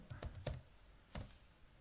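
A few soft, sparse keystrokes on a computer keyboard while text is typed into a PrestaShop 1.7 site's back office, quiet and close with gaps between taps.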